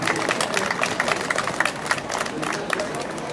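An audience at the Miss Alsace 2013 candidate presentation applauding, a dense steady patter of many hands clapping, moderately distant and continuous.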